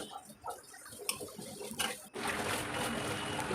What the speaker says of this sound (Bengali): এরপর এর মধ্যে দিয়ে দিলাম পরিমাণ মতন জল।